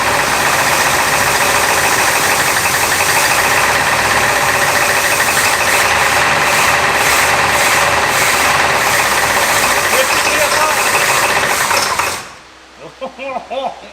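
A seized 1960s luxury car engine, run after 30 years off the road following fuel system work, holds a loud, steady, rattling idle with a knocking tick, then abruptly stops near the end, leaving quiet clatter.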